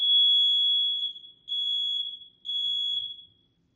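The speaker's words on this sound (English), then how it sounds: "That was a fire alarm." A fire alarm goes off with a shrill, steady high-pitched electronic tone, one long blast followed by two shorter repeated beeps, loud and close with no voices.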